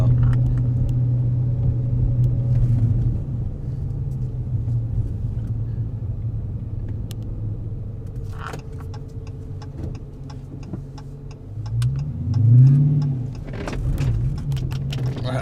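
Interior of a manual stick-shift car driving in third gear at low speed in comfort mode, a steady low engine drone with faint ticks and rattles, then a brief rising surge of revs as it accelerates.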